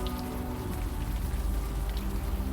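Steady rain falls in the Unavowed video game, a continuous soft patter on surfaces with a low rumbling bed beneath, even and unbroken, with no voices.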